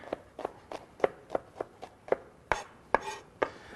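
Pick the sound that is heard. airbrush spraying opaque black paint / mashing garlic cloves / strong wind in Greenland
mashing garlic cloves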